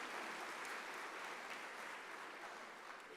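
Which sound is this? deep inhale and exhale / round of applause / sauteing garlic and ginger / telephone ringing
round of applause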